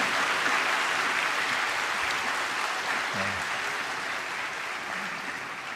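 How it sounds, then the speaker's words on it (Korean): A church congregation at an autumn special dawn revival service gives steady applause in encouragement of its middle and high school students, an even, continuous wash of many hands clapping that slowly fades slightly over about six seconds. "다시 한번 격려의 박수 부탁드리겠습니다"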